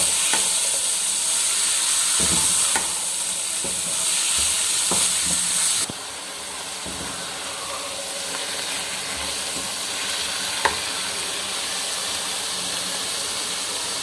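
Turnip and pea mixture with green chilies being stirred as it fries in a pan, a steady close sizzle and hiss with scraping stir strokes throughout, louder in the first half then settling to a softer constant frying.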